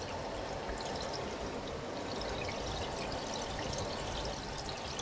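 A rain simulator sprays water onto a boat under restoration in a steady, moderately loud, continuous shower that patters evenly throughout.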